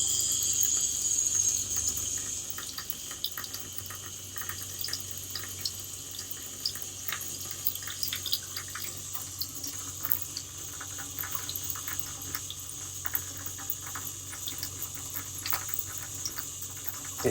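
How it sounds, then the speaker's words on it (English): Water runs from the sink faucet of a Coachmen Pursuit 27KB RV while its water pump works during winterization, a steady hiss and patter with faint ticking and clicks, continuous and close throughout. "You can hear the pump working."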